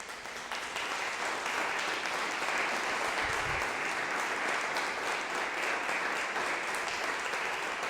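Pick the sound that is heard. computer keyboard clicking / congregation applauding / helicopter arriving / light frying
congregation applauding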